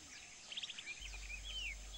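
Several bird calls and chirps ring from high jungle treetops where fruit-eating birds feed, short clustered notes followed by a longer sweeping whistle, moderately faint over a soft forest background.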